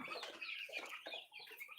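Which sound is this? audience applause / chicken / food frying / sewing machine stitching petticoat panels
chicken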